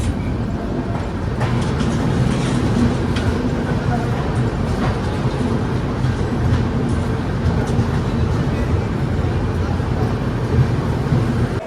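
On board the New Delhi–Pondicherry Express as it runs into Bhopal Junction, a loud, continuous rumble and rattle of carriages fills the air. Faint clicks and knocks sit on top of the rumble for about twelve seconds.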